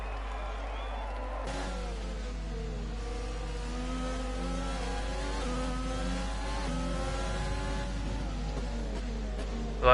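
F1 race cars from a video game lapping the French Grand Prix circuit during qualifying, a steady high engine whine rising and falling in pitch as cars run through traffic, continuous and fairly loud throughout.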